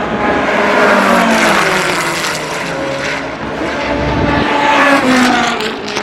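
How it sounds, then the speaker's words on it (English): Several powerful F5000 V8 race car engines warming up at Oulton Park, idling and rumbling loudly together, with revving surges rising and falling throughout. "can hear all the F5000s there, mighty V8s warming up."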